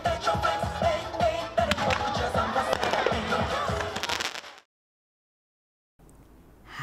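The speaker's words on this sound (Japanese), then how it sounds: "午後8時にはバンク内で花火が打ち上げられ、祭りのフィナーレを飾りました。" Fireworks launched inside a keirin velodrome bank as the finale of a festival in Matsusaka, heard as a dense run of loud crackling bursts with a crowd murmur for several seconds before an abrupt cut to silence, then faint ambience.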